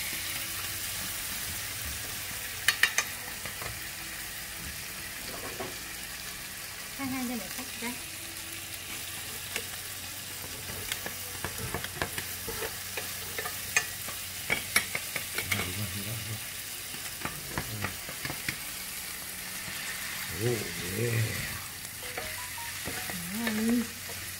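Glass noodles with crab are stir-fried in a hot pan: a steady sizzle of oil runs throughout, broken by scraping and tossing strokes of the spatula, with faint voices at times.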